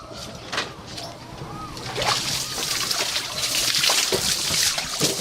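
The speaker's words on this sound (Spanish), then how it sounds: "Va a enseñarnos cómo riega con el agua del río." Garden watering with river water at a South American home garden: steady splashing and trickling of poured water, continuous and fairly close, with rustling and a busy wash of noise throughout.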